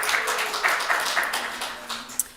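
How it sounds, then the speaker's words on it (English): Brief round of applause at a Torah study session, a modest scatter of hands clapping in a room, fairly close and steady, ending with a sharp final clap. "Double applause."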